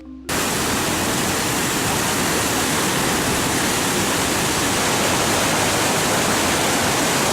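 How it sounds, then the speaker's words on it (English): Itanda Falls in Uganda, with water rushing over and crashing into sharp rocks, gives a loud, steady, unbroken roar that holds from the first moment to the end, with no voices. "The sound that comes from the waves hitting the rocks is a melody to remember for a lifetime."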